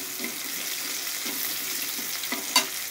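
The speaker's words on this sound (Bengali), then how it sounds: "আমরা অর্ধেকটা পরিমাণে পেঁয়াজ কুচি দিয়ে দেব। রসুনগুলো লালচে করে নেবেন।" Chopped onion and garlic fry and sizzle steadily in a pan while being stirred, with a soft continuous crackle and a sharper clink near the end, heard close and alone.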